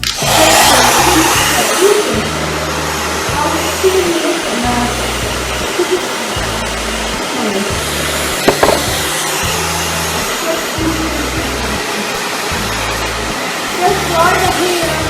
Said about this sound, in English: Take your blow dryer and just blow dry it the way you want